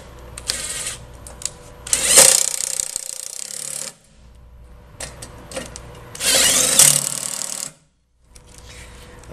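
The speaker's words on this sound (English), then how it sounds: "we're going to tighten up the two coil mount bolts" Tightening the coil mount bolts on a motorcycle during a drop seat kit installation, heard as two long bursts of loud, close mechanical whirring from a power tool, each a few seconds long and separated by quieter gaps, with no talking.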